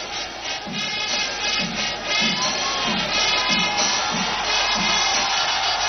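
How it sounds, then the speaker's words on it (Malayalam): A huge festival crowd roars and cheers steadily during an umbrella display, with a regular rhythmic beat pulsing beneath the continuous wash of voices. "ഇതൊക്കെയും ഏറ്റുവാങ്ങുകയാണ് ആരവങ്ങളിലൂടെ ജനസാഗരം."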